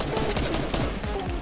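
Gunfire in the game Fortnite, a rapid burst of repeated shots in close succession that crackles densely through the short moment, mixed with game noise.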